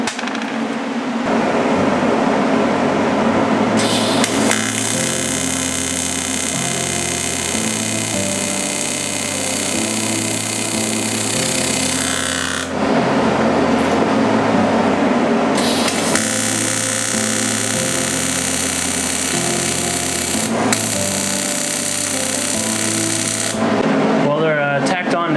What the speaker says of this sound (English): So I'm just cutting the ends off here with a cutoff wheel